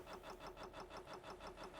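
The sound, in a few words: vehicle engine starting to engage in Stormworks video game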